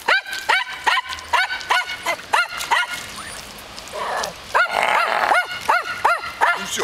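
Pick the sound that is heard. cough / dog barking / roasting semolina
dog barking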